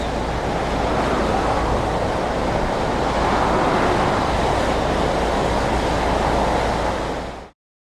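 Agitated sea waves rolling in during Hurricane Rita, a continuous loud roar of surf mixed with wind buffeting the microphone, steady throughout before cutting off abruptly at the end.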